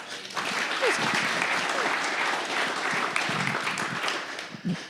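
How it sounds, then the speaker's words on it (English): Audience applause for earlier speakers at a free course talk on analyzing real estate deals, a steady, dense clapping that fills the room for nearly five seconds with faint voices mixed in. "Can you give a round of applause for our previous speakers?"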